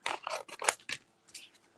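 Scissors with glue on the blades cut through paper in a quick run of crisp, crunchy snips, then stop, followed by a softer final pair of cuts, close and fairly quiet.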